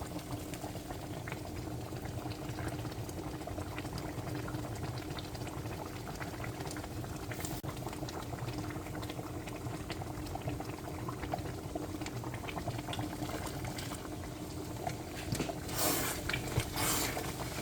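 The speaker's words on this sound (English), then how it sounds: "now it's boiling, it's bubbling" A pan of cassava leaf stew bubbles at a steady low simmer, continuous soft gurgling and popping close by, with a few louder hisses near the end.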